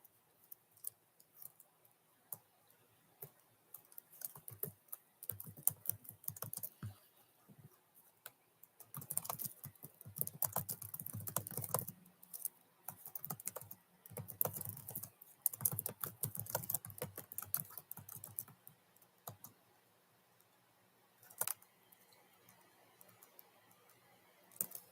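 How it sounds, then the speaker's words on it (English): Computer keyboard typing, bursts of rapid key clicks with pauses between them, close and fairly quiet, with no talking. "I'm typing."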